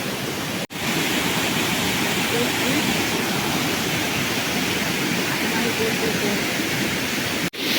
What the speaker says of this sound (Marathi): एवढा मोठा धबधबा आहे इकडून तुम्हाला दाखवतो